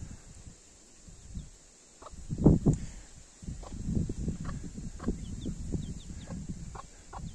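A mother hen and her chick cluck and murmur softly nearby outdoors, with a few short chirps scattered over a faint background hum.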